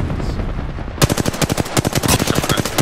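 Automatic weapon fire in the Apex Legends video game, loud close bursts of rapid shots starting after a second of muffled ambience, evenly spaced cracks continuing to the end.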